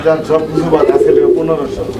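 A pair of yellow magpie pigeons at a fancy pigeon farm coo in a steady, close, low warbling run.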